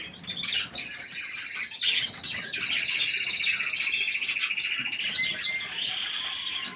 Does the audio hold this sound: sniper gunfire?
no